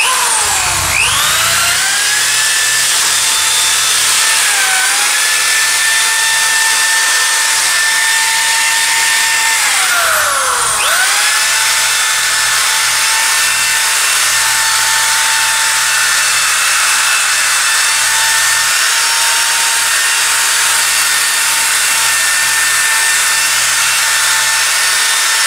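A polishing wheel charged with wet aluminum oxide grinds against a large puddingstone, a loud continuous high whine with grinding friction that dips in pitch twice as the stone is pressed harder, steady throughout with no voices.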